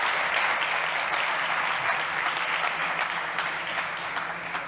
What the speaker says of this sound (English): a huge round of applause from Matt Waite from Apre.